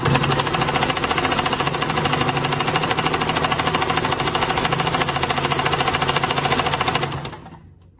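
A Singer sewing machine stitching with its needle bar timing out, running in a loud, fast, steady mechanical chatter with even rapid strokes, then winding down and stopping near the end.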